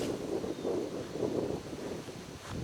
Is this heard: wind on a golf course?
yes